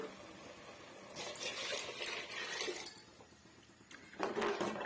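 Water splashes and gurgles into a mixer jar in a couple of pours, fairly close, with brief pauses between the streams.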